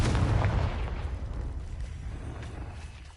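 The Confringo spell blast in the Hogwarts Legacy video game hits as a loud, booming explosive burst at the start, then fades into a decaying rumble with scattered crackles.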